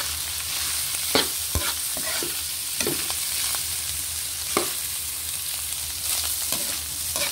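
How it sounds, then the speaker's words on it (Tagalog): Beef bile and offal sautéing in a pan for papaitan, a steady close sizzle of frying with scattered scraping clicks of a utensil stirring the meat, continuous and moderately loud with no talk. "sabay din po natin isangkot siya yung ating pait para po maluto yung ating pait"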